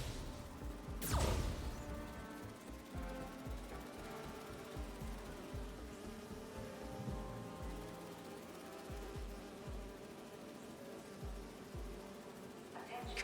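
A swarm of insects from a hive in the Marvel's Spider-Man 2 video game gives a dense buzzing drone that fills the whole stretch. A sharp swoosh and thuds from impacts cut through it.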